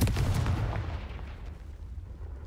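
Confringo fire spell blast in the video game Hogwarts Legacy, a loud booming explosion at the start that rumbles and fades away over about two seconds.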